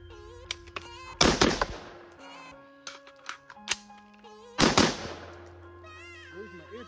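An AR rifle fires on a range, several loud, sharp cracks spread irregularly across the clip with mechanical clicks and handling noise between shots.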